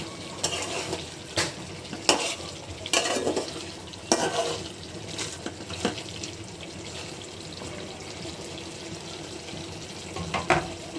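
Chicken curry broth simmering in a pot, a soft continuous bubbling with several louder bursts of spluttering and stirring scattered throughout, close and without speech.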